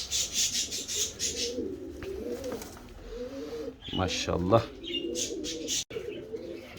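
A flock of exceptionally large, tall King pigeons coos and murmurs in repeated soft, throaty bursts close by. Someone talks over them briefly.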